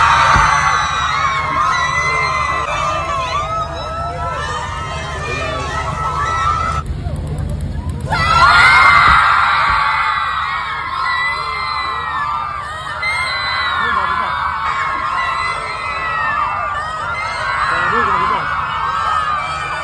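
Crowd of fans screaming and cheering as a celebrity arrives at a fashion show, dense continuous high-pitched shrieks and whoops with babble, loud and close throughout.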